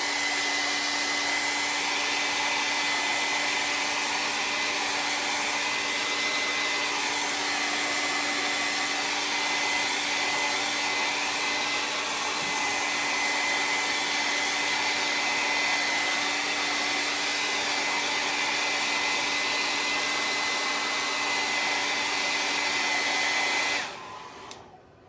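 A hair dryer blows steadily on wet paint on a DIY turkey centerpiece, a loud, constant whirring roar with a high whine that runs unbroken for over twenty seconds before cutting off abruptly.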